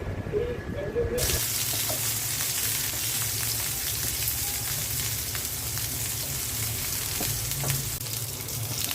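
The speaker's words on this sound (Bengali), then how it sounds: "মিষ্টি কুমড়া ভাজার জন্য পেঁয়াজ রসুন দিয়ে দিলাম" Onion and garlic dropped into hot oil for frying pumpkin give a sudden loud sizzle after about a second, then a dense, steady hiss continues close up with a few faint clinks and no talking.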